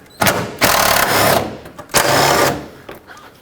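Two sustained bursts from a power tool whirring as it unscrews 10mm bolts on the radiator fan shroud of a 2003-2021 Chevrolet Express van, each lasting under a second and close by, with short gaps between them.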